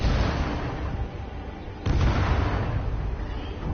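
Gunfire directed at the player in Stories: The Path of Destinies, heard as a dense, rumbling barrage of booms and a sudden loud burst partway through, with no voices.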